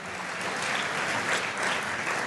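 Steady applause from a luncheon crowd at a chamber of commerce event, a short burst of continuous clapping at an even, moderate level, with no talking.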